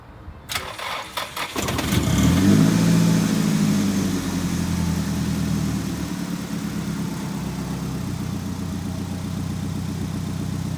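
A Nissan S14 Silvia engine cranks with a few quick turns, catches and fires up, then settles into a steady, loud, close idle that continues alone.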